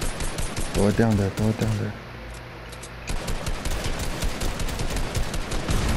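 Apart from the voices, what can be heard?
gunfire in a video game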